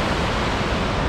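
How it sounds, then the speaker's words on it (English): A waterfall at Glacier National Park gives a steady, even rush of broadband water noise, close and continuous throughout, with no voices. "Nice waterfall that goes to a bridge right there."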